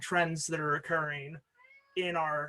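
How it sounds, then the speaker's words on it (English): A domestic cat meows loudly and close several times in drawn-out, wailing calls, overlapping a person speaking in a calm lecture voice, with a brief pause before one final meow. "I apologize for the cat."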